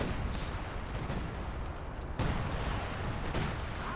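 Assault artillery fire in Company of Heroes 2 rumbles as a dense barrage of shell impacts and blasts, several heavier thuds standing out over a continuous low roar, moderately loud with no talk.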